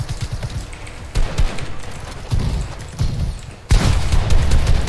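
Fortnite gunfire: repeated bursts of shots crackle at moderate loudness, several heavier volleys punctuating a steady stream of firing with no talk.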